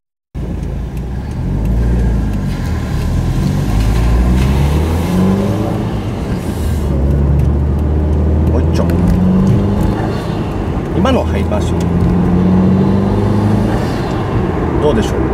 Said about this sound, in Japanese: 吸気音がかすかにシューって言って、ターボかかった後抜いたらシュポーンっていう音がするんですけどね。